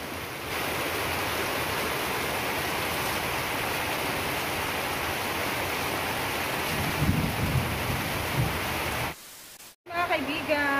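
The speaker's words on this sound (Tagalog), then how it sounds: "Lakas ng ulan." Heavy rain pours in a steady, dense hiss that holds for about nine seconds, then cuts off abruptly, with a voice briefly heard near the end.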